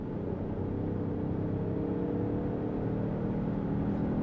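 A Peugeot 5008 GT 1.2 Hybrid with an eDCS6 gearbox accelerates hard on a test drive, its engine drone rising steadily and loud inside the cabin with road rumble underneath and no talking.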